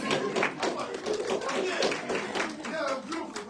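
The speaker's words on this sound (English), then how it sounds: "Let's clap it up for y'all." A small group claps for a class of students, a steady patter of hand claps running throughout with voices talking over it.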